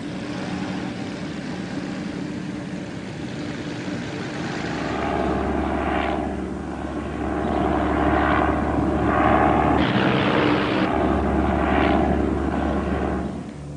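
Douglas A-1 Skyraider, a piston-engine propeller aircraft, droning steadily with a low sustained engine hum and layered harmonics that grow louder partway through as it passes nearby, with no talk.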